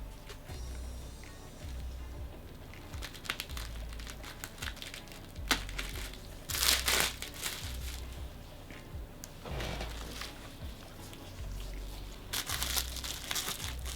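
Plastic packaging and heavily taped box around a ball-jointed doll crinkles and crackles as it is unwrapped, with repeated crunching bursts, tearing and rustling handling sounds up close, and no talking.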